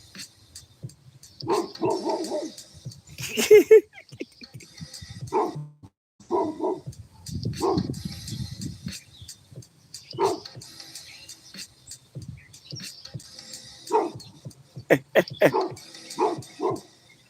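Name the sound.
dog barking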